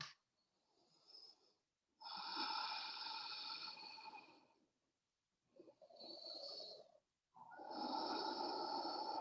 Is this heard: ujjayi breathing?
yes